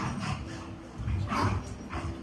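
A dog whimpers and yips in short bursts with a few soft barks, moderately close over a faint background hum.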